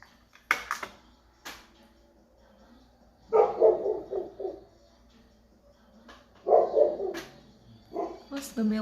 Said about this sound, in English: my dog barking in the back